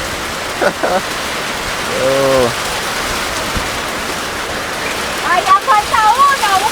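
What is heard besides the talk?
heavy rain pouring down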